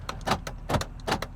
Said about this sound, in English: Door locks.